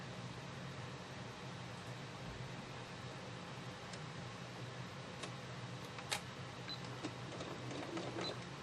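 A computerized embroidery machine stitching a Kimberbell quilt block, a soft steady mechanical whirr with faint rapid ticking and a few sharper clicks, quiet and close, with no speech.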